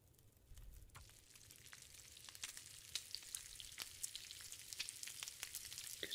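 Food cooks in the survival video game The Long Dark, a quiet, steady sizzling crackle with scattered sharp pops that builds slightly over several seconds, with no talking.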